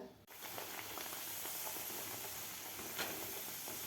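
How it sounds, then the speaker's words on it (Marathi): Banana puris fry in hot oil with a soft, steady bubbling hiss after a brief knock at the start, heard fairly faintly with no talking. "बाकीसुद्धा आपण अशा प्रकारेच तळून घेऊया"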